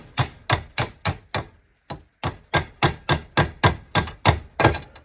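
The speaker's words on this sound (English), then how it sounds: "a couple of gentle taps on the top here." Gentle hammer taps knock the collar off a Hillman Imp gear stick clamped in a vise: a steady run of about fifteen sharp, close metallic knocks with a short pause partway through.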